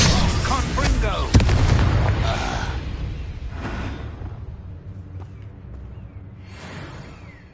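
A Confringo blasting spell fired in Hogwarts Legacy bursts with a sharp whooshing boom near the start, then rumbles and fades under ambient game sound, with a voice calling out just before.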